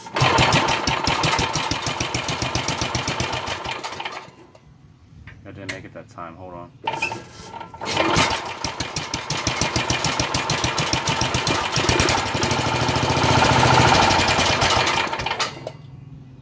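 A small engine with an oil leak runs roughly with an irregular knocking rattle, cutting out briefly midway before restarting and running steadily; someone speaks over it.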